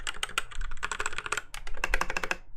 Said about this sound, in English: This is with cherry red mechanical keys. It's very nice. I don't know if you can hear it. It's very creamy